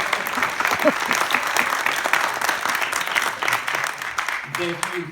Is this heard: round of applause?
yes